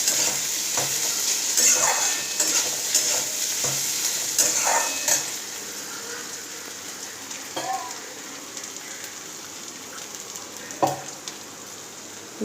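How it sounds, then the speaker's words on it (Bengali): Ginger garlic paste fries in a pan for chicken kosha, a close, crackly sizzle with intermittent scraping knocks of a spatula stirring, the bubbling easing somewhat partway through. "দেখুন আমি আদা রসুন পেস্টটা দিয়ে দিয়েছি, এটাকে একটুখানি ভেজে নেবো।"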